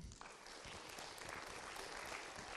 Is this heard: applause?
yes